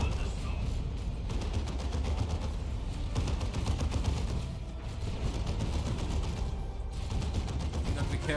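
Heavy bolter turret on a Razorback hammering away in Dawn of War II, a dense continuous stream of rapid gunfire with mechanical clatter, loud and steady throughout.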